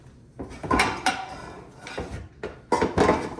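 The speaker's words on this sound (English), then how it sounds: "Next, we'll be grabbing our pan." A frying pan handled in a kitchen, with several close knocks and clanks of metal on a hard surface in uneven bursts, quiet between them.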